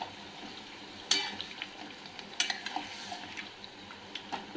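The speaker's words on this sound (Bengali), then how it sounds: "এক্সট্রা যে মশলাটা ছিল সেই মশলাটা আমি পুরোটাই দিয়ে দিলাম, দিয়ে ভালো করে মিশিয়ে নিচ্ছি।" Masala stirred into chicken biryani in a pot: soft frying hiss broken by a few sharp scrapes and clinks of a spoon against metal, close and quiet, no talking.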